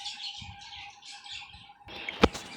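Pet birds in a home collection chirping and tweeting in short, fairly quiet bursts, ending with a louder flutter or knock nearby; no talking.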